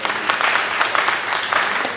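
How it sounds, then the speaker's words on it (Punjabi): Dense, continuous clapping from a live stage-comedy audience in Pakistan, a broad crackling wash of many hands that stays loud and steady throughout with no speech over it. "ਰਾਸ਼ਿਦ ਕਮਾਲ ਦੀ ਤਾੜੀਆਂ ਨੇ"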